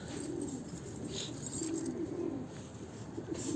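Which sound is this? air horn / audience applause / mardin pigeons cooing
mardin pigeons cooing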